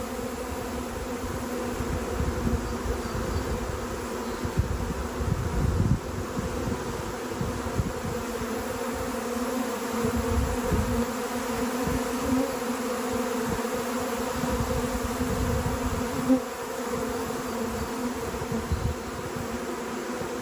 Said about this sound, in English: the bees are gonna go somewhere.